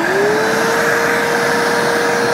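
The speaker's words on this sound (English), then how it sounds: "then we can get the vacuum on" A homemade bee vacuum running, a loud steady whine with a single rising tone that settles into a constant pitch over a rushing airflow hiss, heard alone.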